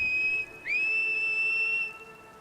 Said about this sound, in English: Oh, we'll whistle first.